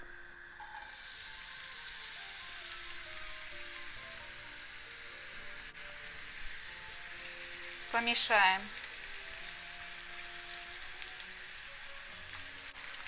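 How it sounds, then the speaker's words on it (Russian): Chopped onion frying in vegetable oil in a pan, a steady close crackling sizzle with faint scraping, while a voice briefly speaks over it midway. "Лук жарим, помешивая, чтобы он не пригорел и быстро стал золотистым."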